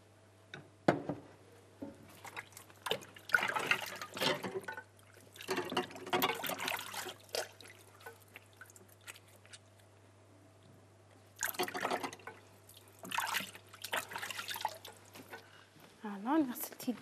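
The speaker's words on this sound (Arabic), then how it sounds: "هلا غسلت يدي" Hands are rinsed under a running kitchen tap after kneading pastry dough, with the water gushing in several irregular bursts separated by quiet pauses.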